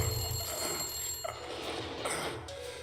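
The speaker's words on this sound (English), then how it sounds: "Of course the phone starts ringing." A telephone rings in the Blacksad: Under the Skin detective game, a bright repeating bell sounding at moderate level over a low, steady backdrop of game music.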